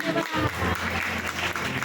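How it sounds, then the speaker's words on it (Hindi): A church congregation claps in thanks to God during a Hindi worship service, dense close clapping blended with a voice and a droning tone. "आइए ताली देकर परमेश्वर को धन्यवाद"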